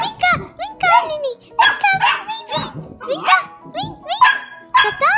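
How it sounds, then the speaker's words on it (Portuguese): A puppy in the Roblox game Brookhaven gives repeated high yips and barks in quick bursts, mixed closely with excited children's voices. "Cachorrinho!"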